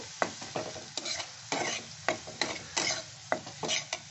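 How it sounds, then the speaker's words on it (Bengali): Spiced masala being stir-fried in a pan for a bottle gourd and prawn dish, with repeated scraping spoon strokes over a soft sizzle, close and fairly loud, no talking. "এটা মশলা দিয়ে এটা কষে নেব"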